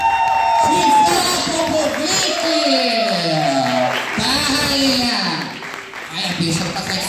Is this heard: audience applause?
yes